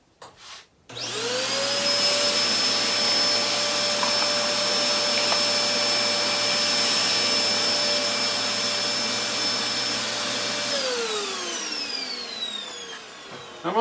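A vacuum cleaner whirs up to speed, runs at a steady loud drone for about ten seconds, then winds down.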